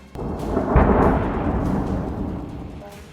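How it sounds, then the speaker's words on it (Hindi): A heavy boom from a drone striking a multistorey building in Kyiv at night, a sudden deep blast followed by a long rumbling roar that slowly fades. "अचानक बहुमंजिला इमारत से ड्रोन टकराता है, जोरदार धमाका होता है।"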